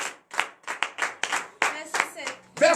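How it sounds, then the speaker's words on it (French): A congregation at a morning prayer service in Benin claps in a rhythmic series of distinct hand claps, close and fairly loud, with voices joining near the end. "Donnez l'acclamation à notre Seigneur."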